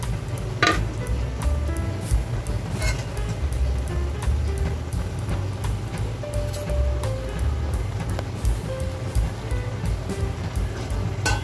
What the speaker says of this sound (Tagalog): Halu-haluin lang natin guys. At ibalik na rin natin guys yung ating mga sahog na isda.